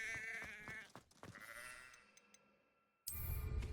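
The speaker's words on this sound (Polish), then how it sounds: "O baranie." A ram bleats in the video game Hogwarts Legacy: a few close, harmonic bleats in the first second or so, then quieter ambient game sounds and a louder rumbling burst at the end.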